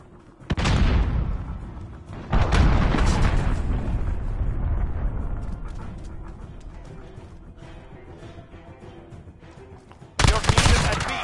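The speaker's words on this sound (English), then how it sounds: "Enemy cruise missile. Take cover." Enemy cruise missile strikes in Call of Duty land as heavy booming blasts, a loud hit near the start and another around two seconds, followed by a long rumbling roar and a fresh burst of noise near the end.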